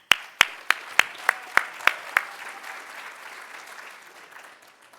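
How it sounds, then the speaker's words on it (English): An audience gives a round of applause at a talk on building a creative company, opening with several sharp, distinct claps over about two seconds, then settling into a steady, softer wash of clapping that fades toward the end. "Let's give him a round of applause."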